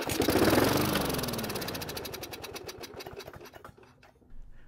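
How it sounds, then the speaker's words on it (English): A Weedeater lawn mower engine sputters to life on primer fuel with a rapid, rattling putter, runs unevenly for a few seconds, then dies away. "the engine started and ran for a few seconds on the fuel the primer sprayed into it"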